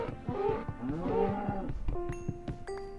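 A cow in the Minecraft video game moos twice in quick succession, a short, clear low bellow followed by light game chimes, with no talk over it.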